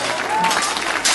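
A short burst of audience applause at an outdoor historical reenactment in Roncola San Bernardo, dense clapping filling the moment, fairly loud and near, with some crowd noise underneath.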